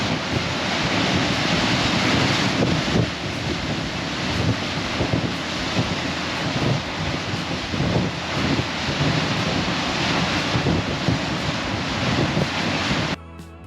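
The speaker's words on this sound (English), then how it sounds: "waves crashing in" Rough, constant roar of surf and waves pounding the shore near Booby's Beach on the South West Coast Path toward Padstow, heavily buffeted by wind noise on the microphone, with no talking.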